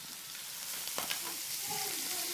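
Lamb chops sizzling in a hot pan, a steady crackling hiss with a few sharper pops, close by.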